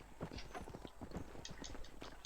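Hoofbeats of a horse in the video game Red Dead Redemption, a brief run of quiet rhythmic clip-clops heard mostly on their own.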